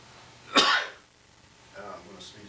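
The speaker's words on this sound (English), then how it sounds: "I'm gonna sneeze" A single loud, explosive sneeze bursts out close by, followed by a quieter vocal sound a second later.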